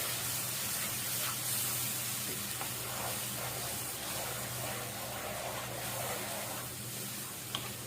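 A masala with black pepper for spicy okra fries in a pan, making a soft, steady sizzle and hiss that is fairly quiet and continuous, with faint scraping from stirring.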